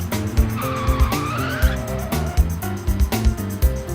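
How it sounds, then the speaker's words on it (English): Cartoon monster trucks race fast, their engines revving and roaring in loud repeated bursts with sliding, squealing tones over a busy music-like background. "Vroom is the sound the trucks make when they drive very fast."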